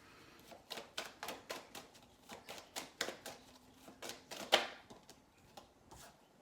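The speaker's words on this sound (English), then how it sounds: "I'm going to shuffle through all the decks to make sure there's no other messages" Quick, crisp tarot-card-shuffling snaps in uneven bursts, close and fairly soft, with no talking.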